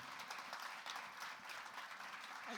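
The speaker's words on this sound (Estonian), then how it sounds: "teeme talle ka aplausi" An audience at a money-wisdom evening applauds a money coach, with dense, continuous clapping that stays faint and even throughout, without voices standing out.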